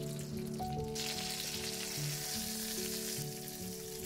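Chicken pieces fry in a pan as they are turned and browned to golden on the second side, giving a steady, close sizzle with background music tones running throughout.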